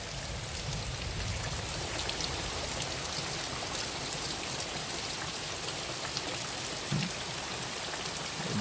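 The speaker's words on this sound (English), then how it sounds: "There's a hummingbird sitting on the hummingbird feeder in the rain" Steady rain pours down around a hummingbird feeder in a garden, a dense, even hiss of drops that holds at the same level throughout, with no voices.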